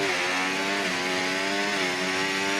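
Perez's Formula 1 car in the F1 24 racing game, its engine failing: a loud, continuous buzzing, high-revving engine drone with steady harmonics that waver slightly, sustained throughout with no talk over it.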